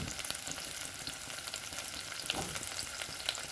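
Pieces of pepper, tomato and onion frying in a pan for a Jamaican breakfast, a faint, even, crackling sizzle throughout with a few light scrapes, no talking.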